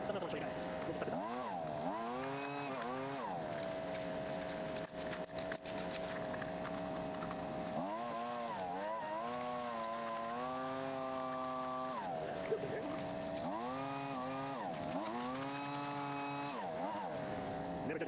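A battery-powered DIY gold vacuum runs with a steady motor whine that rises and falls in pitch as it sucks up material in bursts, loud and continuous throughout, with someone talking over it.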